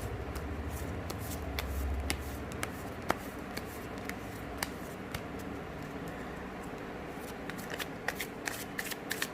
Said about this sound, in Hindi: सारे कार्ड्स फिर से शफल करते हैं